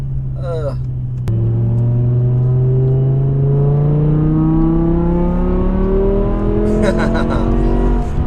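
A BMW E63 M6 V10 engine revs hard and loud, its pitch climbing steadily after a sharp blip, with a high whine over a deep, continuous roar.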